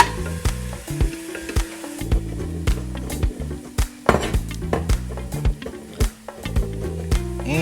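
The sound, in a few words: onions sizzling in olive oil while stirred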